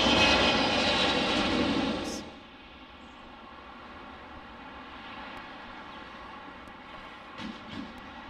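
Engines of a Boeing 717 airliner at Detroit airport, a loud roaring whine that drops off sharply after two seconds to a low steady hum, with a faint voice under it.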